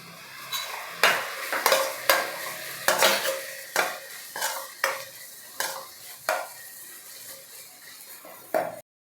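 Finely chopped tomatoes are stirred in a pan of paneer bhurji with green chilies, a spatula scraping in a steady rhythm of about a dozen strokes over a soft sizzle, close and clear.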